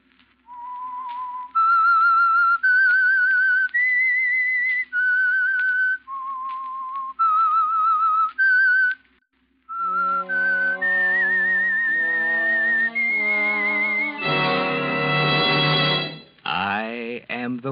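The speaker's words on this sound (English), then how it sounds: "That whistle is your signal for the Signal Oil Program," A lone whistler plays a slow melody, clear sustained notes with pauses, before a brighter, fuller musical phrase joins near the end.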